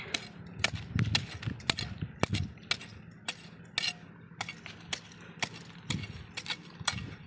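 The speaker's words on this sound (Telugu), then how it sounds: "ఇలా చుట్టూ తవ్వేసుకోవాలండి" A small hand tool digs and scrapes soil around a banana sucker in a backyard garden, giving a close, irregular run of sharp clinks and gritty scrapes with no talking.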